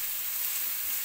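Garlic and ginger frying in a pan for a meatball recipe, a steady close hiss of sizzling oil with no talk.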